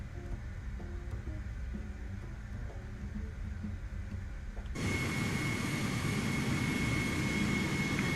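A turboprop airplane taxiing out to the runway in a flight simulator game gives a steady engine drone that jumps to a louder, brighter roar partway through, with no talking.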